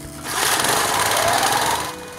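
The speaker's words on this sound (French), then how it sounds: "J'ai donc modifié une bicyclette pour pouvoir pomper de l'eau avec un autre pompe." A bicycle rigged to drive a water pump at a cabin gives a steady, fast mechanical whirring and rattling that holds at an even level for about two seconds, with no voices.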